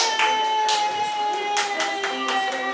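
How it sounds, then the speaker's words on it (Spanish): Applause from an audience at a live music performance, several bursts of clapping rising and falling over a sustained musical tone. "Aplauso."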